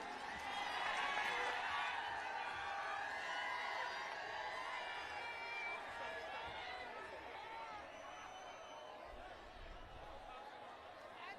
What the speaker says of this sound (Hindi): एक बार जोरदार तालियां बजाएं उनके लिए।